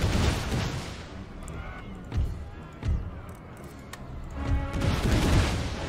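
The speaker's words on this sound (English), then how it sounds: "Just hear all these explosions." Artillery in the Empire: Total War siege of Warsaw: several dull booms and bangs scattered over a noisy battle din, a few sharper cannon reports standing out at uneven intervals.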